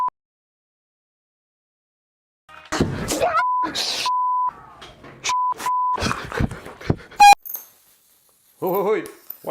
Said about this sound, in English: My alarm is gonna sound.